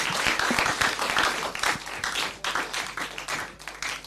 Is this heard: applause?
yes